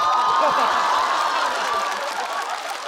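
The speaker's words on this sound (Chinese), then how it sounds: "你们越鼓掌，我做的越快。" Stand-up comedy audience applauding at a live show, dense continuous clapping with some cheering and laughter mixed in, loud and sustained before tapering slightly toward the end.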